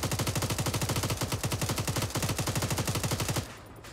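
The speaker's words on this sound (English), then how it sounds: "they're still firing at us from somewhere" Sustained automatic gunfire in the military video game Arma 3, rapid evenly spaced loud bursts for about three and a half seconds, then cutting off to quieter background.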